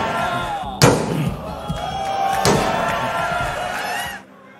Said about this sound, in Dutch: Hij ramt erop tegen mijn deur!